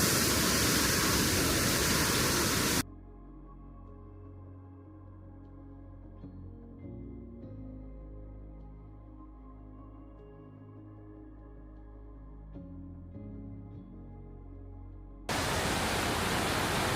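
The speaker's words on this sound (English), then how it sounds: "I want to just show you one of the waterfalls here." A waterfall at a rural property in Abruzzo, Italy, heard as a steady broadband rush of falling water, moderately loud and continuous with no talking.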